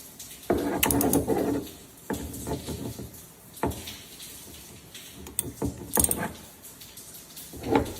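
A ratchet loosens a spark plug on a 2022 Yamaha VX Cruiser, heard as scattered clicks, metallic clinks and rattles at close range, uneven and fairly quiet.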